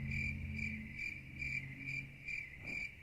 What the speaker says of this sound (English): See, this is crickets.